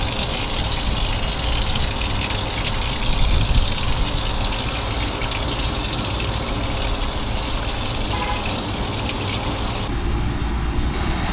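Water gushes continuously as it is pushed through an HVAC coil, a loud, dense, steady rush lasting over ten seconds with a brief surge partway through.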